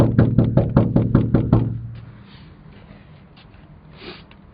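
Eight or so firm, evenly spaced knocks on a closed door, loud and close, then quiet with faint background noise.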